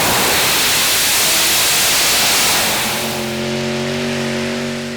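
A Danish championship pulling tractor with five Oldsmobile engines roars loud and close during a full pull at Herning, a broad rushing blast that settles into a steady, droning multi-engine tone.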